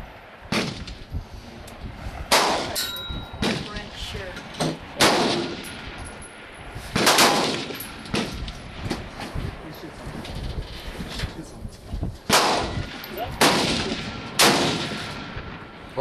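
Gunshots at an outdoor shooting range crack out loud and sharp as a string of separate reports at an irregular pace, with people talking between shots and some wind noise.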